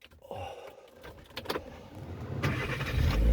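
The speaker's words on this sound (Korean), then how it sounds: "시동을 한번 걸어볼게요." A Chevrolet Spark small car starts up from inside the cabin: a few clicks and rustles, then the starter cranks briefly and the engine catches, settling into a rising idle hum.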